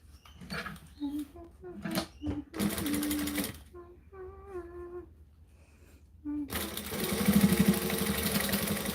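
A sewing machine stitches fabric for utility bags in two runs, a short one early and a longer steady whirring run at the end, with a voice talking in between.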